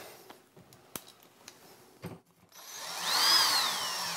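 A power drill drives screws into the side profile trim of a Fhiaba appliance, with a series of sharp clicks and taps at first, then a sustained whirring run near the end, close by and without talk.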